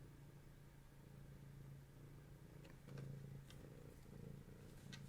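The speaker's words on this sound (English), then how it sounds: "Purring." A cat purring close and quiet, a soft continuous low rumble that swells slightly in waves, with a few faint rustles and no talk.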